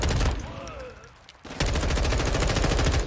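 Rapid automatic rifle fire in Modern Warfare 2 multiplayer, shot without an optic, comes in loud close bursts, pauses briefly, then resumes as a steady rattling stream.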